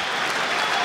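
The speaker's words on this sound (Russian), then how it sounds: "все аплодируют, молодцы, зрители." Spectators at a boxing match applaud steadily, a dense wash of clapping filling the whole moment without pause.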